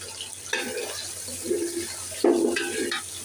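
Water is poured into ground nut paste in a cooking pan, giving two close, splashy gushes, the second louder, over a steady low background hum.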